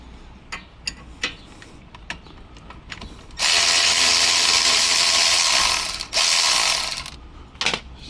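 A ratchet wrench loosens the brake caliper bolts on a Toyota Highlander during a front brake pad change, with a few scattered clicks, then a long, loud, rapid run of ratcheting, a short pause and another burst, close up with no talking.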